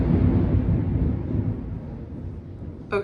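Thunder outside during a storm, a long, deep rolling rumble that is loud at first and slowly fades over a few seconds, heard from indoors with no talking over it.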